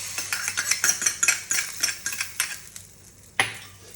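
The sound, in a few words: tempering of mustard, cumin and dried chili poured into rasam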